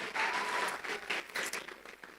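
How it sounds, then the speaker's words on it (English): A round of applause from an audience: a fairly quiet but dense patter of many hands clapping, swelling early and thinning slightly toward the end. "Please give him a round of applause again."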